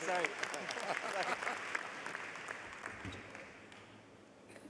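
Audience applause at a medical college commencement for graduates, a steady round of clapping with voices talking over it, gradually tapering off toward the end.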